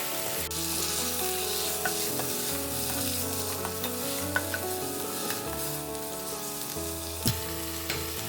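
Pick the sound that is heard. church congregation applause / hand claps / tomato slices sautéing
tomato slices sautéing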